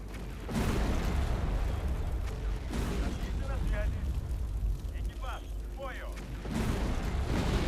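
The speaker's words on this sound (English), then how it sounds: "the big explosion." A big explosion in the Soviet-era video game Hidden Stroke 2 lands as several deep, rumbling booms spread across the clip, with a fainter rumble and crackle lingering between the blasts.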